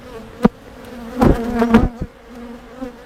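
Honey bees buzz around an opened beehive during an inspection, with several close, loud passes of individual bees droning in and out against a quieter background hum.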